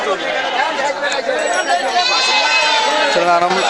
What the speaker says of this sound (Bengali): দেশি জাতের ছাগল